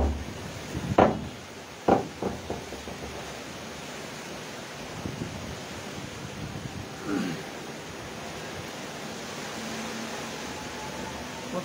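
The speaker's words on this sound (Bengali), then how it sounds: "মাঝে মধ্যে এমন বাতাসের ঝটকা আসতেছে" Gusts of wind from Cyclone Remal roar in a broad steady rush with a few sharp buffeting bursts against the microphone, loud and close, with no one speaking.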